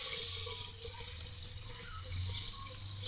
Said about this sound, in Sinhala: දාගෙන දැන් මේකට ඔයගොල්ලෝ වතුර දාගන්න ඕනේ.